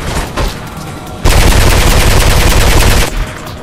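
Heavy, loud automatic gunfire rattles through a mall shootout in Mirror's Edge, with short bursts at first and then a sustained roaring volley of close-range shots lasting nearly two seconds.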